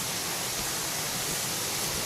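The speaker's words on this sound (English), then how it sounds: "Found a nice little creek to cross." A small creek near the Huckleberry Trail at Spruce Knob flows in a steady, broad rushing hiss, close and continuous with no talk.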